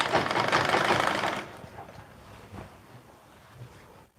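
A sewing machine runs briefly, stitching a skirt seam one inch from the waist. It whirs loudly for about a second and a half, then leaves quieter handling noises.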